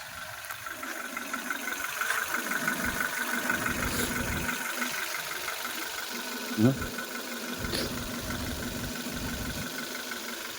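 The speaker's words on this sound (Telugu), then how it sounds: "బండి స్టార్ట్ చేసి చూపిస్తాను మీకు." A 2010 Chevrolet Beat engine idles at a steady, even hum throughout, with one brief louder knock partway through and faint voices in the background.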